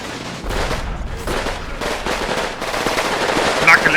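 Machine gun fire in the Combat Mission Red Thunder war game, loud repeated bursts of rapid shots with short gaps between them, close and dense.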